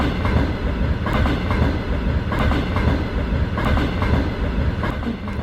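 Steady rumble and rolling clatter of a diesel locomotive and its wagons on track in a Lego train film, loud and continuous throughout, with no talk.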